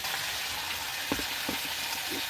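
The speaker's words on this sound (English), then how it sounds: "You hear that sizzle?" Steaks sizzle while cooking in a truck camper, a close, steady crackling hiss of frying with a few soft pops and clicks scattered through, moderately quiet and with no talking.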